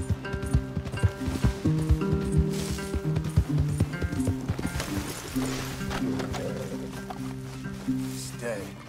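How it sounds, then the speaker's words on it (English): Rhythmic horse hoof clip-clops plod along in Red Dead Redemption 2 beneath background music, with a voice speaking over the steady footfalls. "Leave the horses in the trees there."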